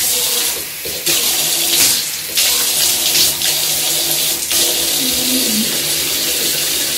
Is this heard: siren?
no